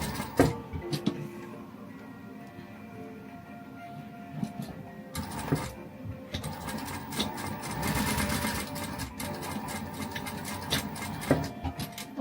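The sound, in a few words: sewing machine top stitching a glasses case tab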